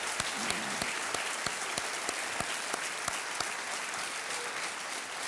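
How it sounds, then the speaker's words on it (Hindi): A studio audience on a televised Hindi quiz show bursts into sustained, loud applause for a contestant becoming a crorepati, steady dense clapping filling the whole stretch. "अभिनंदन जोरदार तालियों के साथ इनका करते हैं"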